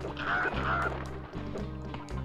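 Squawking chickens being struck in the Gex 3: Deep Cover Gecko PlayStation game, with a couple of short clucking cries over steady, rhythmic game music.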